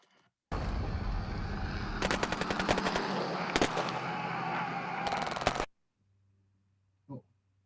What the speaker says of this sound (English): there's some shootings and bombing happening here.